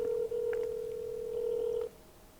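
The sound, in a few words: telephone being dialed to call mother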